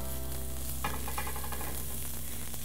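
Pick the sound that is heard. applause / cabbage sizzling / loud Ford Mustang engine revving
cabbage sizzling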